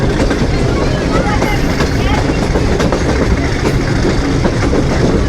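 The Millat Express, a locomotive-hauled train on a branch line, runs with loud, continuous rumbling and clickety-clack of wheels on the rails, a dense roar heard from on board.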